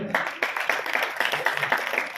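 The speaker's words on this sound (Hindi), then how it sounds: "आप लोग जोरदार ताली बजाएं" An audience at a felicitation ceremony for local achievers in Rajasthan claps steadily and loudly throughout, a continuous dense applause heard close up with a faint voice beneath it.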